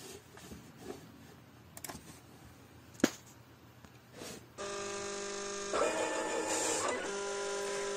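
Cutting plotter machine working on stickers: soft clicks and a sharp tap give way to a steady whirring motor drone that holds for several seconds, rising slightly louder near the end as the blade moves.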